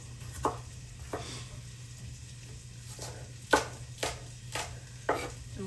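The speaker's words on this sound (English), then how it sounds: "I'm gonna get these diced as best as possible. It's gonna be a rough chop." Vegetables for a vegan soup are roughly chopped on a cutting board, about seven irregular knife thuds over a low steady background hum, fairly quiet with no talk.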